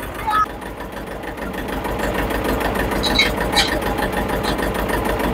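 A farm tractor's engine runs steadily at close range, a continuous rumbling drone with no break.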